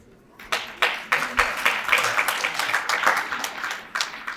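A ceremony audience at an annual function and foster-family gathering in Meerut claps to welcome guests, with a steady run of rhythmic, fairly loud hand claps that starts abruptly and carries on.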